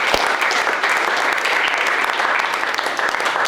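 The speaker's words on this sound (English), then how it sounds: "Round of applause." An office all-team meeting breaks into dense, continuous applause from a group, many hands clapping steadily at close range.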